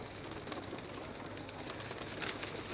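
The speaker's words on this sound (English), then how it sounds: "These white pigeons signify peace, and their release from this cage symbolizes freedom for the country." White pigeons are released from a cage at an outdoor independence anniversary ceremony. Soft cooing and bird calls sit under a steady, fairly faint crowd-and-wind bed, with scattered flutters and noises throughout.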